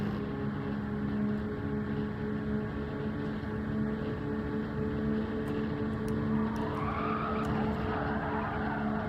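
A loud, steady roar of a racing car engine in Gran Turismo 7 during a time trial runs throughout, with tonal whine and a brief rise in pitch near the end.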